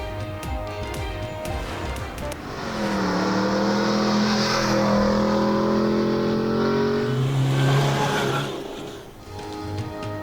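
Rally jeeps race across the Cholistan desert near Bahawalpur during the International Cholistan Jeep Rally, engines roaring loud and close as they rev hard and sweep past, with brief tire squeals and skidding and no voices.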